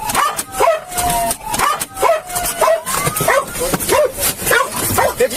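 A police K-9 dog barks and yips repeatedly in quick, excited bursts at close range, with whining tones between barks, in the middle of a police foot chase after a pursuit.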